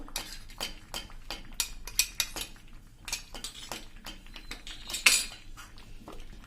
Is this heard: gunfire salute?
no